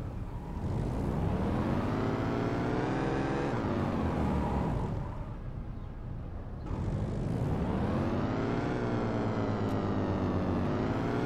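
Car drifting in the mobile game Car Parking Multiplayer: a steady synthetic engine drone that rises and falls in pitch as it revs, dips briefly in the middle, then climbs again, continuous and loud with no talking.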